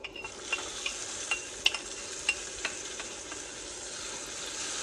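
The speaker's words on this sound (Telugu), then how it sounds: "పోపుని మొత్తం పెరుగులోకి వేసుకోవాలి" Hot tadka tempering meets curd in a bowl and is stirred through, giving a soft steady sizzle with a scatter of light clicks and scrapes from the spoon, close and quiet with no talking.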